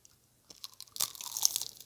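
Someone bites into a crispy crab rangoon and chews, giving a loud close crunch followed by a flurry of crackling, crispy chewing noises after a brief quiet moment.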